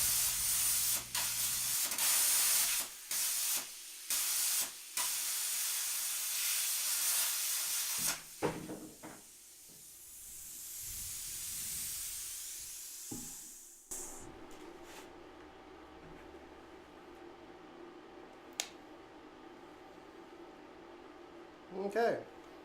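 An HYL CUT40 plasma cutter cuts metal with a loud, steady hiss that stops and restarts in short bursts, then gives way to quieter mechanical clicks and handling noise. Someone talks over parts of it.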